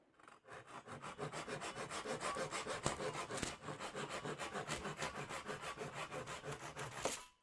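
A hand saw cuts down a wooden tenon during the glue-up of a Lutyens bench. Steady, rhythmic rasping strokes run close and continuous for several seconds and end with a final pass, with no talking.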